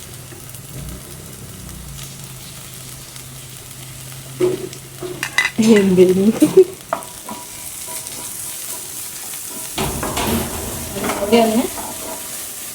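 Ginger and garlic sauté in a pan for kappa biryani, a soft, fairly quiet sizzle with bursts of stirring and scraping, while someone talks over it.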